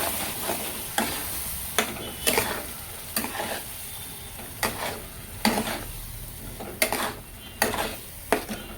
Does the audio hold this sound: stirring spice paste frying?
yes